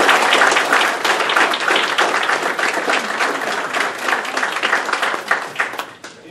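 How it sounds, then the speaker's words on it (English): An audience applauds election candidates at a chamber event, loud, close clapping with distinct individual claps, tapering off toward the end. "let's give a round of applause to all of them"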